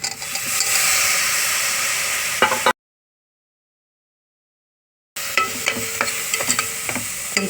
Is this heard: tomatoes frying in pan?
yes